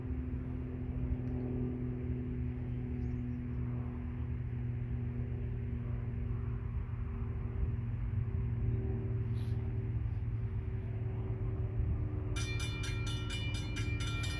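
Union Pacific freight train passing close by, a steady loud rumble with sustained low droning tones and some higher rattling near the end, no voices.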